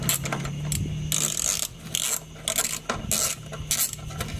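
A ratchet backs out the last bolt on an abandoned Dodge Challenger, giving bursts of rapid metallic clicking in several short rhythmic spells, close and fairly clear with brief pauses between strokes.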